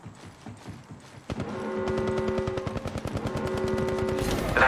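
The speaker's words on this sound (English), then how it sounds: "The enemies are shooting at me." Rapid automatic gunfire from the Apex Legends Mobile video game, loud, tightly spaced shots that start after a quieter opening moment and keep hammering steadily to the end, with no talking.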